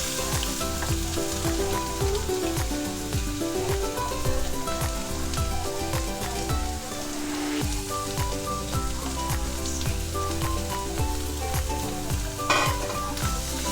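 Finely chopped onions sautéing in a pan for Maharashtrian misal pav, a loud continuous sizzle and crackle with frequent scraping stirs and clinks, heard alone without talk.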